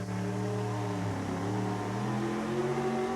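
Orange Crush monster truck engine revving hard at a 1988 USHRA truck pull in Kansas City, with a loud, sustained roar whose pitch dips and then climbs again, heard from the stands.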